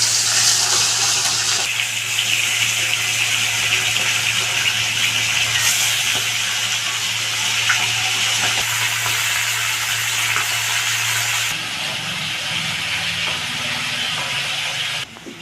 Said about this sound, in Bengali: তেল গরম হয়ে গেছে, এবার আমি মাছটা ছেড়ে দেব।